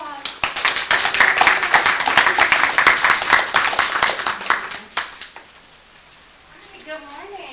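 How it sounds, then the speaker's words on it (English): A conference audience at a university leadership summit breaks into a dense round of clapping that swells and then tapers off, followed by a few spoken words from the stage. "So if we could all just give her a round of applause."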